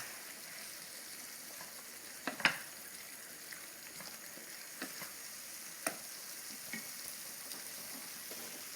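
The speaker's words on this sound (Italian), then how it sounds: "Mescoliamo." Liver and onions sizzle steadily in a pan for fegato alla veneziana, a soft continuous fry broken by a few scraping clicks as the mix is stirred.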